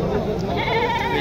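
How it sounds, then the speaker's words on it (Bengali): A goat at a rural goat market in Naogaon gives a short, wavering bleat close by, mixed with surrounding voices. "এই যে একটি ছাগল"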